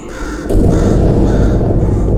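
A crow caws harshly and loudly in the Portal 2 video game, one sustained raspy call close up with no talk over it.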